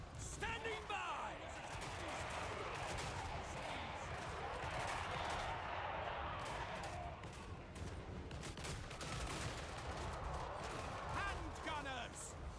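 Hand gunners unleash rapid, overlapping volleys of gunfire in a Total War Warhammer 3 battle at a wall. Dense crackling shots run continuously under a busy battle din.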